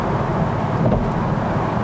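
Toyota GR Supra A90 with its 3.0-litre six-cylinder engine, heard from inside the cockpit on the road: a steady low drone with road and wind rumble, constant and moderately loud, with no talk.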